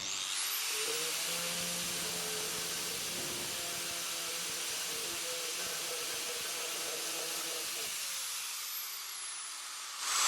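An Arbortech TURBO Shaft power carver grinds into wood with a continuous high-pitched whirring and rasp, holding steady for about ten seconds at close range with no talking.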